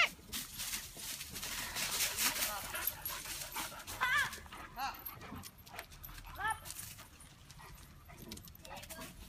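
Several dogs outdoors at a trailer arrival and setup give faint, scattered yips and whimpers amid rustling and footsteps, with people talking nearby.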